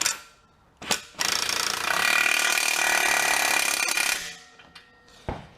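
An impact wrench works on a boat trailer axle, with short rattling bursts followed by one long loud hammering run of about three seconds and a few brief bursts after it.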